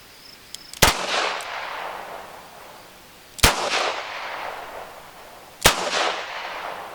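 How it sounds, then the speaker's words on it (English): Three sharp, loud double-action revolver shots, a Smith & Wesson and a Chiappa Rhino, fired outdoors a few seconds apart, each with a booming echo that trails off before the next. "We'll go 3 rounds, Smith&Wesson versus Chiappa, double action."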